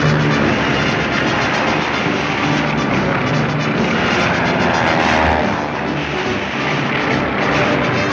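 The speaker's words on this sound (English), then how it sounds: "During maneuvers, pursuit planes engage each other in aerial games." Propeller-driven pursuit planes roar continuously through cartoon aerial maneuvers, a loud, steady engine drone with slight swells, alone without speech.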